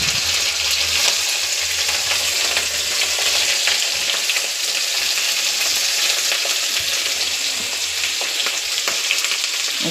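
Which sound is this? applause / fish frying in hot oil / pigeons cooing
fish frying in hot oil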